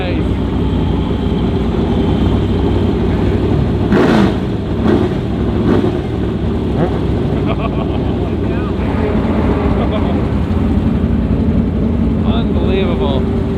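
Cars on a parade lap give a loud, steady engine drone with revving swells, heard close and continuous while people talk over it.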